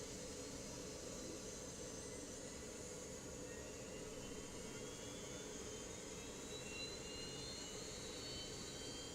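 Engine 2 of a JAR A320 spools up in the X-Plane flight simulator, a steady jet whine and roar with a rising tone building gradually, heard alone with no talk.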